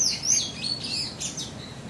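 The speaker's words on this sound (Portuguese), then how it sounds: "com o passarinho cantando de fundo" A small bird sings in the background outdoors, giving a run of high, thin chirps and trills. The song is moderately faint over a soft, steady ambient hiss, and no one speaks.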